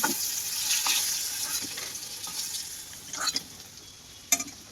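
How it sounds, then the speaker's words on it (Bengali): Thick stems and potato pieces fry in hot oil that was just used for aubergine, making a continuous close sizzle. Occasional scraping knocks of a spatula stir through it, with a couple of sharper clinks near the end. "নিয়ে ওই তেলেই ডাঁটা আর আলুটা ভেজে নেবো"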